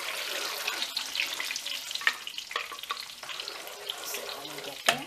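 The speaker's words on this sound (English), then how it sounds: "And I will add water to this." Tap water runs into a pan of simmering sauce for eggplant parmigiana, a busy hiss of sizzle and splashing with a few sharp clinks and knocks scattered through, a louder bump near the end.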